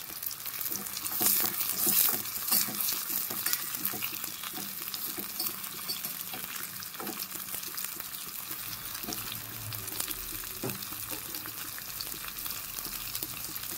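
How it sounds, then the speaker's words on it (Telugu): Tempering spices and dried red chillies fry in oil, sizzling and spattering continuously with scattered sharp pops and occasional stirring scrapes, close and steady throughout. "తాలింపు అలా వేగింది."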